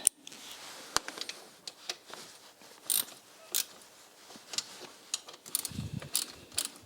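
Bolts on an EGR part of a Land Rover Defender being tightened with a ratchet, giving quiet, close, irregular clicks and metallic ticks with a few louder knocks near the end.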